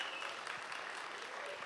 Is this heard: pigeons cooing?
no